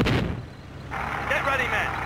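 A tank cannon fires in the World War II game Theater of War, a sharp low boom at the start followed by rumbling engine noise and a voice issuing orders.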